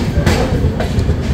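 The Mithila Express leaves the station in a loud, close rumble, with rolling low noise and periodic clattering bursts from the wheels and carriage, and no voices.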